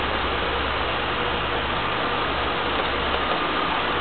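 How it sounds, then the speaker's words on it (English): A BMW 850 exhaust rumbles steadily at idle, a deep, constant low drone with no voices. "Here's the exhaust. It doesn't sound very good on this phone, but it's got a nice deep rumble to it."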